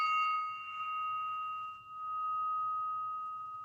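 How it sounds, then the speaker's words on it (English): A mini spinning gong hanging on a string is struck once and rings with a clear, sustained metallic tone that wavers slightly as it spins. It stays fairly loud on its own throughout. "I've never heard of it before, it's called a spinning gong."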